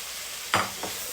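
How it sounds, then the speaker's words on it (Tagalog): Pork is sautéed with tomatoes and shrimp paste in a pan for binagoongan: a low sizzle runs underneath two quick scraping stirs, the first louder, the second fainter. "Tuloy natin yung paggisa."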